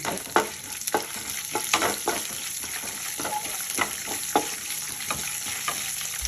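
Mustard seeds and urad dal fry in hot oil for a tempering, a close, continuous sizzle broken by sharp pops and scraping stirs at an irregular pace.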